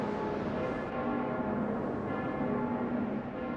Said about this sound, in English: The sound of the bells